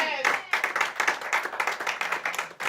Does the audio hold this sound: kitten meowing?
no